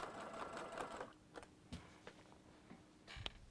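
A sewing machine runs steadily while stitching a zipper pouch, a continuous mechanical whir that stops after about a second, followed by scattered clicks and fabric handling and a brief final burst of stitching.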